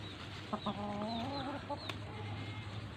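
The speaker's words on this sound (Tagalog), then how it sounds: "dito lang yung manok sa baba eh" A chicken clucks a few times in short, rising calls, fairly close, over a steady low hum, then quiets.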